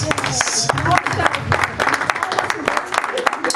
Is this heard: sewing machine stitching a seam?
no